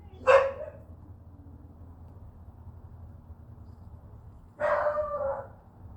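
A dog gives two separate barks a few seconds apart, each short and fairly close, over a quiet low background hum with nothing else happening between them.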